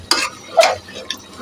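Chicken kosha is stirred and fried in a pan, three quick scraping strokes of a spatula over a soft background sizzle, close and distinct.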